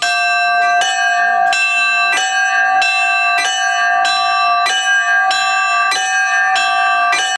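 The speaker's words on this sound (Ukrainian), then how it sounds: "всі три дзвони виготовляли за стародавніми технологіями, яким більше пів тисячі років" Three newly consecrated church bells, cast using centuries-old traditional methods, ring at a prison colony church in Tovmachyk, Ukraine, with loud, steady strikes roughly every 0.6 seconds and long overlapping metallic tones, unaccompanied by voices.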